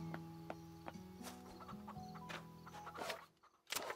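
Chickens on a farm in Farm Together 2 cluck and squawk in short repeated bursts over a soft tonal music bed, a flock close by, briefly dropping out near the end.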